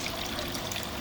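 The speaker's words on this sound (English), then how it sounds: "the water goes through there and fills up here and then comes out" Water trickling and pouring through a homemade aquaponics setup with fish, a dense, continuous splashing flow heard close up and alone.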